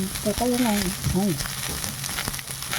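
Panch phoron spices and onion frying in hot oil for a tilapia and cauliflower curry, a steady broadband sizzle throughout with a voice briefly audible over it near the start.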